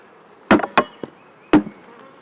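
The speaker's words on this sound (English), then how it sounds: "knock the bees back off of that." Three sharp knocks, then a softer fourth, land on a honeybee hive feeder to shake the bees off. The bees' buzzing hum carries quietly underneath, and no one speaks.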